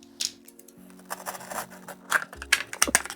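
A TINWOO T20W smartwatch package being opened, with close crisp rustles, scrapes and snipping-like clicks from cardboard and plastic packaging in short bursts, no talking.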